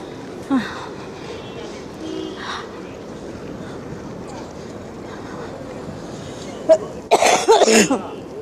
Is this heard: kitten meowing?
no